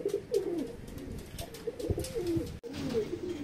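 Several low, rolling racing pigeon coos repeat close by, with a brief break near the end before the cooing resumes.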